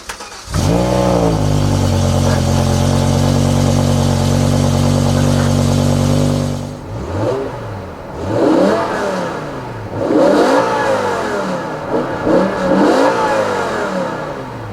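BMW E60 M5 with its V10 engine revving, a loud sustained high rev for about six seconds that cuts off, followed by several shorter blips and throttle stabs that rise and fall, heard up close with no talking.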